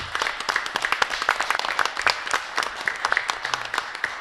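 Small-group applause at a town board meeting, a handful of people clapping unevenly with sharp, distinct claps that hold steady for several seconds.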